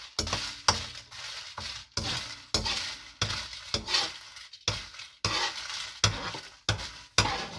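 Dry red chillies being dry-roasted in a pan for a sambar mix, with repeated rhythmic scraping strokes of a spatula against the pan and a light rustling sizzle, close and steady.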